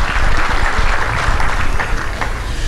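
Loud, dense applause from an audience at a wind power project commissioning ceremony, a steady wash of clapping sustained for the whole stretch.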